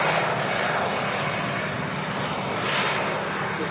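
Aircraft engine roar from an older passenger plane, about seven years old, at Manchester Airport, holding steady and loud throughout with a broad continuous rumble and whine and no talk over it.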